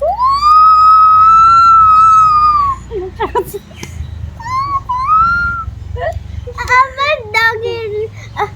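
A five-year-old girl imitates a jackal's howl with a long, rising, wavering wail, then adds shorter yelping calls, loud and close.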